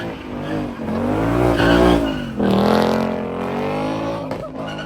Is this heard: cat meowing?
no